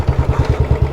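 A modified BS6 Royal Enfield Bullet 350 with a short Punjab-style exhaust idles up close, its loud, even thumping beat repeating rapidly in a chugging rhythm with no talking.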